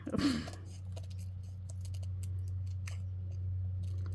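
Scissors cutting through a mixed media paper board for flowers, one crisp snip up close followed by faint scattered clicks and light rustling over a steady low hum.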